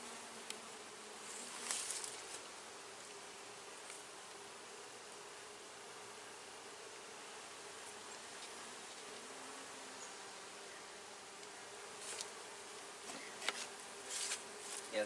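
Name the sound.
honeybees buzzing around an open hive during inspection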